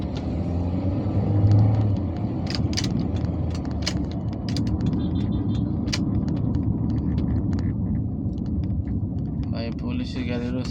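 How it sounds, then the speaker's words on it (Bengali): A car driving along a road in Bangladesh, heard from inside the cabin, gives a steady low engine and road rumble throughout, with people talking over it. "ভাইয়ে তো গাড়ি চালাচ্ছে"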